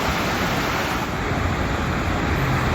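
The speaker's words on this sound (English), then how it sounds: "Nice looking falls there." Havasupai Falls waterfall roaring in a canyon along a creek, a loud, steady broadband rush of falling water with no breaks and no voices.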